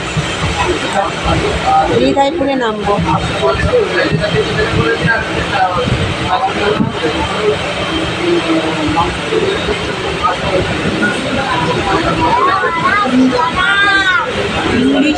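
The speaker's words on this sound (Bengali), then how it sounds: "দেখো ট্রেনটা ছাড়লো, আমরা পরের স্টেশনেই নেমে যাবো" A passenger train departing and running, heard from on board as a loud, steady rumble and rattle with occasional squeals, while people talk over it.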